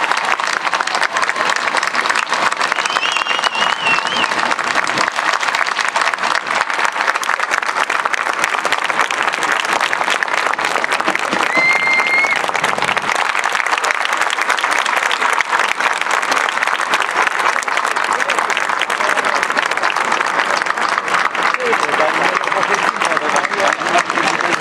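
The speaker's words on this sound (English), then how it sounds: "Please recognize them with applause so loud they can hear you in Flushing." Sustained, loud audience applause at a 2014 Armenian Genocide commemoration, dense clapping from a large crowd continuing steadily for the whole stretch, with faint voices mixed in.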